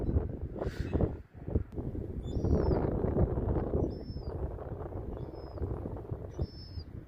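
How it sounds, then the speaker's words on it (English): Thin, high calls from a young gull by the sea near rockpools sound several times at spaced intervals, faint and distant over steady wind rumble. "You can hear a young gull."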